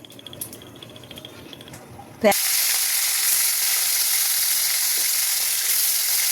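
Koi fish dropped into hot oil in a wok bursts into a loud sizzle after a couple of seconds of quiet kitchen noise, then the frying holds as a steady, close hiss with no voices.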